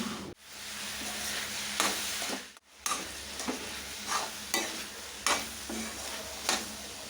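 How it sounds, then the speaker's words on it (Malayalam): A curry being stirred and mixed in a pan sizzles steadily, with rhythmic scraping strokes recurring roughly every second and two brief near-silent gaps early on; close and quiet, no talking. "ഇനി നമുക്കിതൊന്ന് ഇളക്കി യോജിപ്പിച്ച് കൊടുക്കാം."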